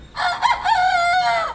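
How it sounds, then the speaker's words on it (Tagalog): Stag roosters kept as gamecocks crowing close by, one long strained cock-a-doodle-doo that rises and holds for over a second, loud and clear over faint background. "malakas tumilaok yung mga stag ko"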